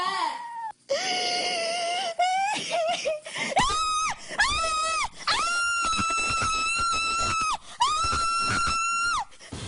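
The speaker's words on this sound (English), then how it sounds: "Sobbing followed by horrific screams." A woman screams and sobs in a played recording, a string of long, high, wavering wails broken by short gasps and crying, loud and raw, filling the whole stretch.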